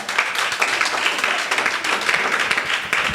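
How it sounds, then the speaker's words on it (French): A church congregation applauding and cheering loudly for the Lord, with continuous fast clapping and crowd noise throughout. "Je veux qu'on acclame le Seigneur très fort."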